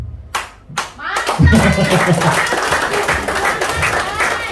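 Audience at an Islamic-finance business presentation clapping, a few isolated claps first, then dense, steady applause with voices mixed in throughout.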